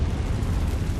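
A Confringo blast spell explodes in the Hogwarts Legacy video game: a short, dense, rumbling burst with deep low-end boom that fills the whole second, with no talk over it.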